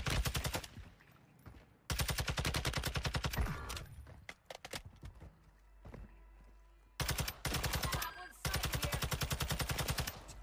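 Rapid gunfire bursts in a video game, loud repeated volleys of shots separated by short pauses, with quieter game sounds between bursts.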